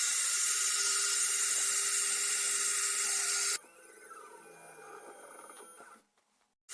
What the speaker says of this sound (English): The holes for the two grub screws which will hold the microscope objective lens holder are drilled and tapped